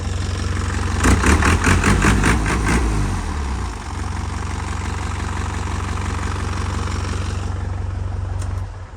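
A 2001 Hino FC4J six-wheel dump truck with a 140-horsepower diesel idles steadily and loud, briefly revving with rapid clattering pulses before settling back to a low, even rumble.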